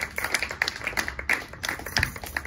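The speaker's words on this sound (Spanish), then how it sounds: "Denle el aplauso al Señor" Scattered clapping from a church congregation, uneven and sparse rather than full applause, with a few sharper claps standing out nearby.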